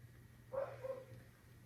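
A single short, muffled dog bark, somewhat distant and soft, over a quiet background hum.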